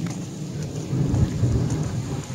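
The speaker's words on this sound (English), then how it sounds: "Thunder." Thunder rumbles low and steady during a rainstorm, a continuous deep roll under the hiss of falling rain, fairly loud with no voices.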